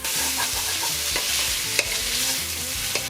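Smoked sausage browns in a pot in its own rendered fat for a Cajun pasta, giving a dense continuous sizzle with repeated scraping and clacking of a utensil stirring, loud and close, no talk.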